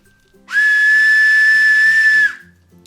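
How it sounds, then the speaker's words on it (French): A toy camping whistle, part of a 3-in-1 compass and flashlight tool, is blown once in a single loud, steady shrill tone lasting nearly two seconds. "Et on a un sifflet."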